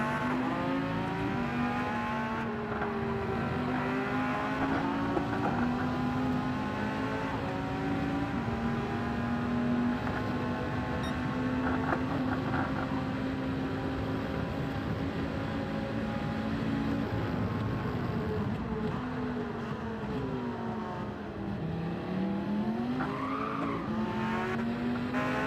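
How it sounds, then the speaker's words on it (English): Porsche race car engines in Gran Turismo 7 scream continuously through the whole stretch, loud and sustained, with pitch rising and dropping through gear changes and a faint hint of tyre squeal, no voices heard. "those Porsches are loud"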